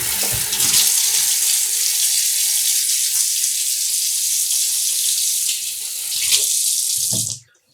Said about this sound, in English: We're going to rinse the mixer a little.